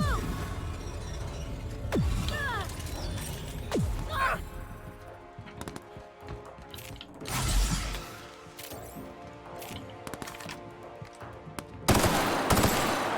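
Bursts of gunfire from a gun in the video game The Outer Worlds, with repeated sharp shots and rapid volleys mixed with whooshing effects and a dense game soundscape throughout.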